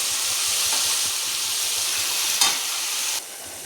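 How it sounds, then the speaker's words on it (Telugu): Plenty of onions frying in a pan for a prawn fry, a loud, dense, continuous sizzle with one sharp stir or clink near the end before the hiss drops slightly, close up and without talking. "ఎక్కువ ఆనియన్స్ వేసుకొని ఫ్రై చేసుకుంటే"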